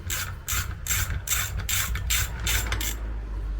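Ratchet wrench clicking rapidly in several short bursts, close up and fairly quiet, as the rear shock absorber nut of an Audi TT Mk2 is undone with the shock clamped in a vise during a rear suspension rebuild.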